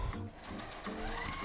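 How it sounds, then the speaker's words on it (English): A sewing machine zips along dress side seams in a quick run of stitching, its needle clatter rapid and close, with brief shifts in speed and no talk. "take those over to the sewing machine and just zip them together"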